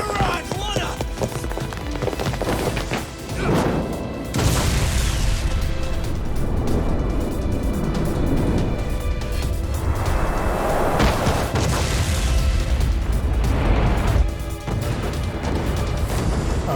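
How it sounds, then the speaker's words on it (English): A ship blows up in the video game Lost Judgment, with booming blasts and crashing bursts amid tense game music and shouting characters, loud and up front with several swelling impacts. "This ship just exploded!"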